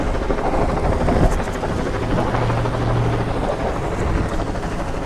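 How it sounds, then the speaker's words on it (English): A helicopter drones overhead with a constant rapid rotor chop and engine roar, loud and steady throughout, with no voices. "There's a helicopter flying overhead."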